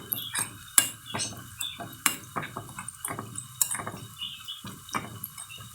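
Garlic being stirred as it fries in a pan, giving repeated clinks and scrapes of a utensil against cookware in an uneven rhythm, close and fairly clear.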